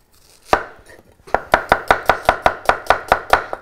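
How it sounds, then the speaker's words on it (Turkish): A knife chops onions on a cutting board, starting with one isolated knock and then a quick, even run of about a dozen crisp, close-up chops. "Soğanları yine doğruyorum."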